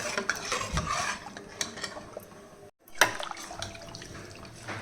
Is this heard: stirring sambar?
yes